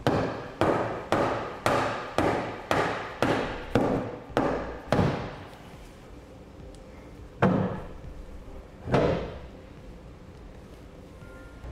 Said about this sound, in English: I'm going to use a dead blow hammer so I don't mark the